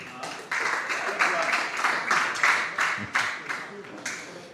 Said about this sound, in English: Please let us clap for ourselves.